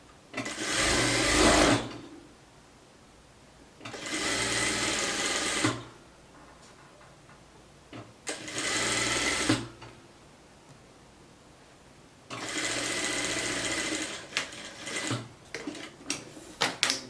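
Sewing machine stitching the neckline and sleeve hem of a blouse, running in four separate bursts of about two seconds each with quiet pauses and light handling rustle between them.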